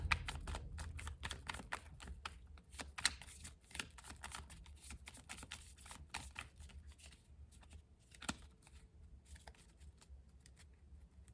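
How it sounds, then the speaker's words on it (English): Cards being shuffled by hand, a long run of close, crisp riffling clicks and flutters that comes in bursts and softens toward the end, with no talk. "So, shuffle until it feels right."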